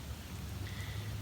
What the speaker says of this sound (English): The rain kind of comes and goes, but it's not torrential yet, although it is picking up